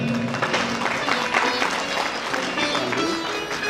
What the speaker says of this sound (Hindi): एक बार उनके लिए भी जोरदार तालियां।